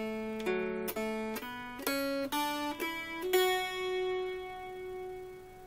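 Mountain dulcimer walking up a scale from the open middle string: about seven plucked notes rising one after another, each bright and ringing, the last left to sustain and fade, with no voices.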